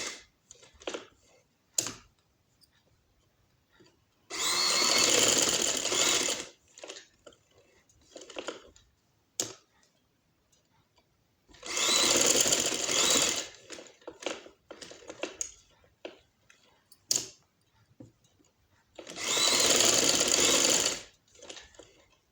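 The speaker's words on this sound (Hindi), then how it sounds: "बहुत आराम से आपने सिलाई लगानी है, मशीन को ज़्यादा तेज़ नहीं आपने चलाना।" A sewing machine stitches trouser fabric in three separate bursts of about two seconds each, with quiet handling clicks and rustles between the runs.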